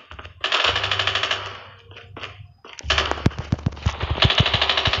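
Rapid automatic gunfire from Call of Duty Mobile in a zombie mode, with several bursts separated by brief pauses and then a dense stretch of sharp, close shots.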